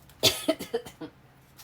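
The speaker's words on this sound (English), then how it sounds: "Sorry, this always makes me cough." A few short, harsh coughs in quick succession, close and fairly loud, with no talking around them.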